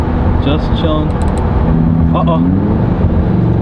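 Lamborghini Huracan EVO engine cruising in seventh gear, a steady low drone with road noise running throughout, close and loud under someone speaking briefly.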